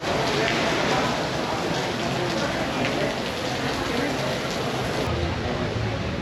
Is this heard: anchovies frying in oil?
no